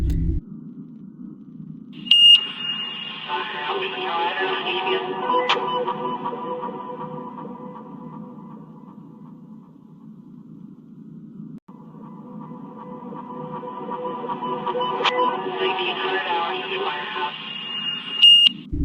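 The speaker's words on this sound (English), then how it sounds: "Voice is one of the creepier random noises that, at least in my opinion, just because it sounds like, again, a voice through a radio" An eerie ambient noise from the game People Playground resembles a muffled voice through a radio, with a low droning hum under warbling, garbled mid tones that swell, fade to near nothing, then return, with faint beeps at the edges.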